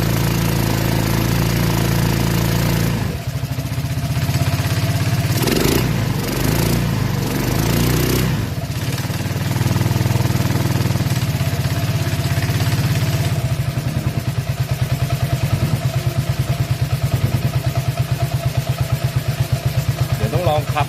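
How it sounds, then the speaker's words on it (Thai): A small buggy engine (FD300) runs steadily with a rapid rattling clatter from the CVT roller weights, a rhythmic knocking that grows more regular toward the end, with a person talking over it at times. "เสียงกักงกักงนั่นคือเสียงเม็ดนะ"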